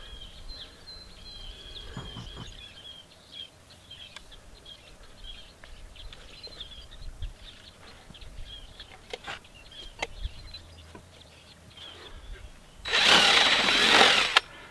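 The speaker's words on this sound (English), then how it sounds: "put our screw in here right in the middle of the board" Power drill driving a screw into the middle of a wooden board while building an Amish fence stretcher, heard as a loud close whirring burst near the end after a stretch of quieter shop noise and someone talking.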